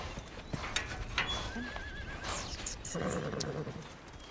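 A horse neighs with a wavering whinny at a horse rescue ranch, while hooves clop and shuffle nearby against a steady outdoor background.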